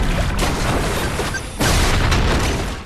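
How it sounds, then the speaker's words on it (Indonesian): A bomb explodes inside a building, a loud sustained blast of broadband roaring and crashing debris that swells again partway through, with no talking. "alat penangkal sinyal mati sehingga bom di gedung pun meledak"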